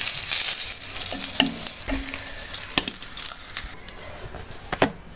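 Eggs frying in hot oil in a pan, a steady sizzle with scattered crackles and a few sharp scraping stir clicks, close and fairly loud, no talking.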